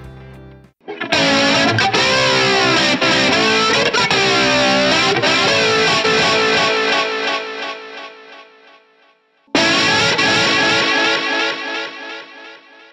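An electric guitar played through distortion and an ambient effect pedal strikes loud, sustained chords that decay with a washy tail, then a second chord is struck and rings out.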